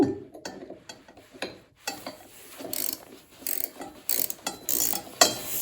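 A ratchet with an extension clicks in quick, uneven runs as it tightens a bolt on a snowblower impeller. The sound is close and fairly faint, with short pauses between strokes.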